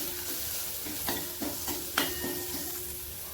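Spices, salt, fennel, carom seeds and dried fenugreek being stirred into a hot frying masala for samosa filling, with steady sizzle and a few sharp spoon scrapes against the pan, close and alone.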